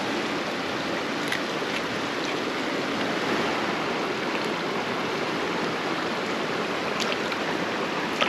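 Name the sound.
Idaho creek flowing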